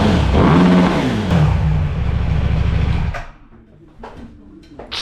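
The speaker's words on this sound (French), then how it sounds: "Je remonte et je la démarre au rupteur." A KTM RC8 motorcycle with a freshly rebuilt engine revs hard up against the rev limiter close by, then cuts off abruptly, leaving a quieter space broken by a few sharp clicks and knocks.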